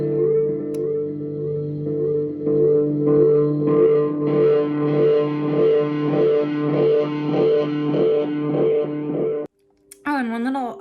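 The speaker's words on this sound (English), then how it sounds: "when I engaged the oscillation mode, it ramped up both the volume and the repeats and of course the feedback" Ibanez ES3 Echo Shifter in oscillation mode, with volume, repeats and feedback all ramped up: a loud, pulsing wall of echoing guitar tones swelling steadily over about nine seconds, then cutting out into a brief warbling pitch sweep.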